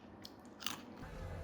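Crunchy food bitten and chewed close up, giving a sharp crackling bite followed by softer chewing crunches, with no talking.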